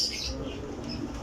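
Pigeons at a breeder's loft give soft coos and a brief rustle of wings, faint and close, with no talk.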